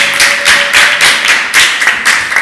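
A church congregation claps in a steady rhythm during worship, with loud, close, evenly spaced hand claps and no talking.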